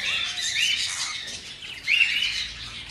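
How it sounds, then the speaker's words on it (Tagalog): Pet parakeets, saddleback and split pearl heavy pied line birds, give two bright, rising squawking calls over a steady background of chirping, fairly close and moderately loud. "So ayan mga kaibon."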